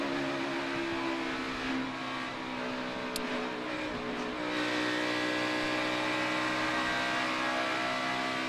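NASCAR race cars lap Pocono Raceway, engines droning steadily at a distance as the pack comes off turn three, the roar swelling slightly midway and holding, with no talk.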